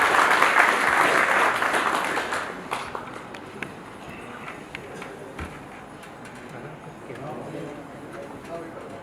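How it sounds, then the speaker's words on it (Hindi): A burst of applause at an association swearing-in ceremony, loud at first, then fading within a few seconds, leaving a quieter room with a voice in the background. "तालियां आपकी बजती रहनी चाहिए।"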